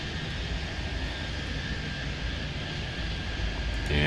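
An airplane takes off in the video game Airport Madness 3D, a steady roaring engine drone that holds evenly and swells slightly louder near the end.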